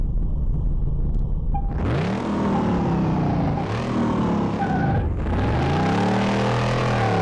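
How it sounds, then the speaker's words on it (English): In the Car Mechanic Simulator 2018 game, a Dodge Charger's engine revs hard with rising, sweeping harmonic rumbles, several throttle surges after a quiet idle start, loud and up close. "This thing definitely has a rumble to it"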